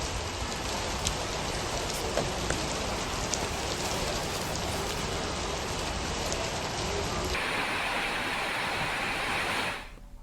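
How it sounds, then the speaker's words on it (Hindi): Heavy rain pours steadily in Dehradun during a sudden afternoon downpour, a dense, loud hiss of drops hitting surfaces that holds for nearly ten seconds before abruptly dropping away. "बुधवार को दोपहर में अचानक राजधानी में तेज बारिश शुरू हो गई"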